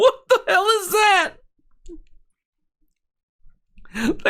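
A frog gives a loud, whiny, cat-like call with rising and falling pitch, then near silence with a faint click, before another short call starts.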